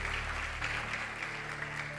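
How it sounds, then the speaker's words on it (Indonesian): A church congregation claps together in a brief, sustained burst of applause that fills the room at a steady level. "Yang percaya berikan tepuk tangan buat Tuhan Yesus."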